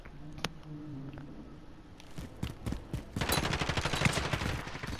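Rapid automatic gunfire in a Call of Duty: Modern Warfare multiplayer match, starting with a few scattered shots and building into a loud, dense burst of continuous firing over the last couple of seconds.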